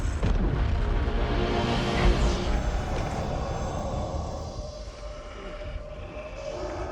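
Cannon fire and a ship explosion from World of Warcraft: Warlords of Draenor, a heavy booming blast that rumbles loudly at first, then slowly fades into a long, low roar, with no talking.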